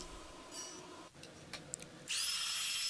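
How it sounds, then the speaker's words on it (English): A blower dries the cleaned electronics of a 2009 Epiphone Les Paul Prophecy GX guitar. A few faint clicks and handling knocks come first, then a loud, steady airy hiss starts partway through and continues to the end. "I ended up using a blower just to make sure everything was dry."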